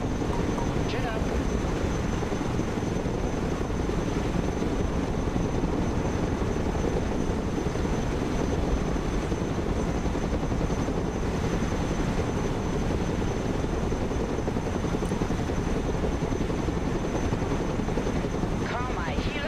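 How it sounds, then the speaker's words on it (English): A cargo helicopter in the Broken Arrow video game, its steady rotor and turbine drone running loud and continuous throughout. "Let's go and recover it with our helicopter."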